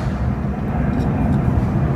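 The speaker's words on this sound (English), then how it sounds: "And there's a plane." A low, rumbling roar of an airplane passing overhead outside a college dorm, steady and moderately loud across the whole moment, with no clear talk over it.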